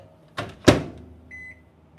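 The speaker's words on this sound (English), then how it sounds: "So I'm just going to put this in the microwave now just to prepare it." A microwave oven is loaded with frozen rice: two sharp knocks as the door shuts and buttons are pressed, followed by a short electronic beep as heating begins.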